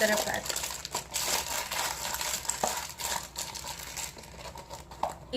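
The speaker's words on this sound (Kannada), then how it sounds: "ನಿಮಗೆ ಕವರಲ್ಲಿ ಬೇಕಂದ್ರೆ ಈ ಥರ ಕವರಲ್ಲಿ ಹಾಕ್ಬಿಟ್ಟು ನೀಟಾಗಿ ಈ ಥರ ಪ್ಯಾಕ್ ಮಾಡಿ" Plastic cover crinkling and rustling steadily as items are packed into it, close up, with occasional light clinks of objects against the packaging and no speech.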